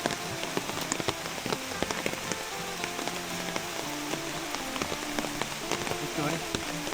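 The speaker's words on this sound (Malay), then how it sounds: "Lagi hujan ni apa." Rain patters steadily on a camping tent pitched in dense brush, a close, constant spatter of drops with occasional faint voices.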